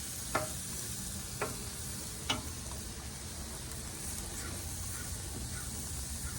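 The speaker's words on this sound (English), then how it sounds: "I'm going to start flipping my cauliflower rice around a little bit" Cauliflower rice fries in a pan with a steady, broadband sizzle throughout, broken by three sharp clicks or clatters in the first two and a half seconds as it is stirred. No one speaks.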